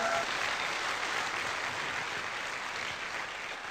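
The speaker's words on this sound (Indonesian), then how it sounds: "mohon aplaus untuk Anda semua Bapak Ibu" Steady applause from a seminar audience, broad clapping that fills the room at an even level for the whole stretch.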